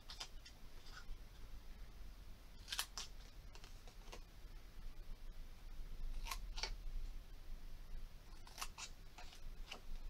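Scissors cutting a paper craft piece for a handmade case, heard as a few separate crisp snips spaced across a quiet background with no talking.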